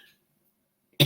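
A single sharp cough, close and fairly loud, bursting out at the very end after a long stretch of near silence.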